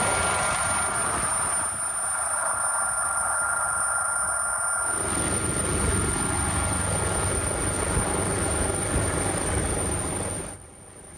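Firefighters' Drago helicopter flying over a landslide emergency area, its rotor a loud steady drone throughout, with a brighter high whine easing partway through and the sound fading away at the end.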